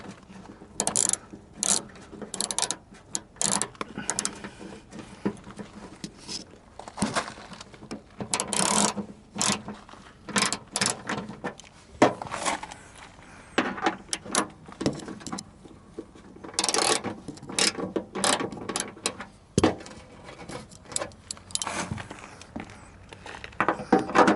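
A hand ratchet snugs a 10 mm bolt on a radiator overflow expansion tank on an old Chevy squarebody truck, its pawl clicking in rapid bursts of strokes with brief pauses, close and fairly loud.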